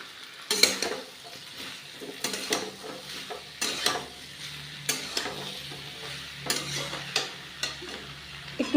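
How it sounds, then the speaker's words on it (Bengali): Fried ginger, cumin and spices being stirred into mixed vegetables in a pan, a soft continuous sizzle broken by repeated scraping strokes of a spoon against the metal, close and without talk. "এবার সমস্ত সবজির সঙ্গে ভালো করে মিশিয়ে দেব।"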